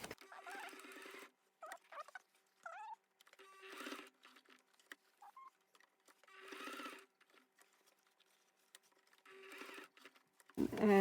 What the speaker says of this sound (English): I try to sew the Velcro in a little box